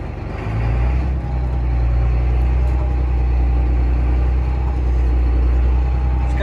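A 8400 tractor engine in the Real Farm video game throttles up from idle into a loud, steady, low diesel drone that holds without a break.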